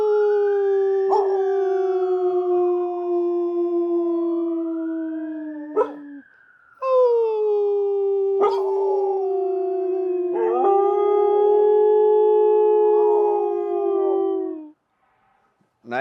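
Several dogs howl together nearby, long rising and falling wails overlapping in loud sustained choruses, with brief gaps and a few sharp yips between.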